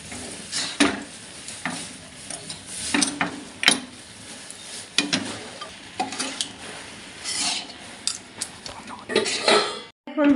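A pot of 500 grams of rice flour dough for mung bean puli pitha is stirred with a utensil, giving irregular scraping knocks and clatters against the pot at close range over a low background hiss.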